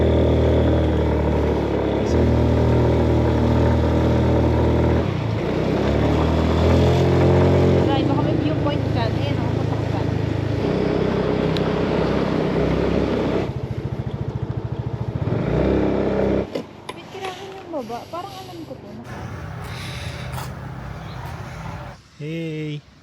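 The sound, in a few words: Yamaha Nouvo RC motorbike engine running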